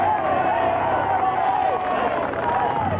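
Spectators at a Tour de France stage finish in 1987 cheer and shout in a sustained roar, with a few whistles rising above the crowd noise.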